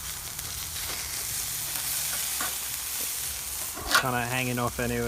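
Steaks sizzle on a barbecue grill in a steady, close, broadband hiss that runs throughout, with a brief spoken remark near the end.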